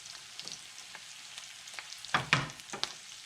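Eggs fry slowly in a pan on a diner-style breakfast stove, giving a gentle, crackling sizzle with sparse pops, then a few sharper spits and crackles near the end, close and fairly quiet with no talk.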